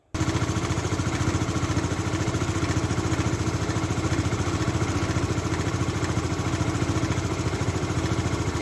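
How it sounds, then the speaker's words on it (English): A Honda Activa scooter with a starting problem idles steadily, its engine giving a constant, close, even putter with no change in pace throughout. "So this is the sound of the engine."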